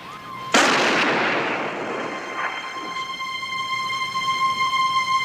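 A single loud gunshot from a police drama standoff, a sharp blast that rings out and decays into a long reverberant tail with lingering tones, no talk over it.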